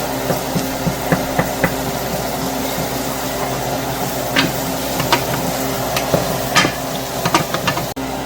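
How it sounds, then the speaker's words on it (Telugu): Ginger garlic paste stirred into onions frying in a pan, a steady close sizzle with scattered scraping clicks of the spoon against the pan, alone without talk. "అల్లం వెల్లుల్లి పేస్ట్ కొంచెం వేసుకుంటున్నాను. పచ్చివాసన పోయేదాకా కలుపుకోవాలి."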